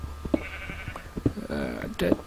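Sheep bleating in the video game Minecraft, a few short wavering bleats close up, mixed with clicking game sounds and a voice talking over them.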